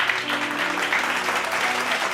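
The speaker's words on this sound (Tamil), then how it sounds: "கைத்தட்டு, கைத்தட்டு." A congregation at a late-night Bible study claps together in a dense, steady burst of applause, close and continuous throughout, with no speech over it.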